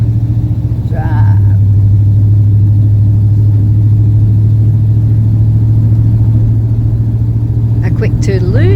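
A car engine hums steadily and close on a Sunday morning drive near Broken Hill, its low drone shifting pitch as it pulls away, with a brief voice at the start and end.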